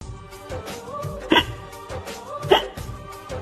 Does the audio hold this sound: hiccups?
yes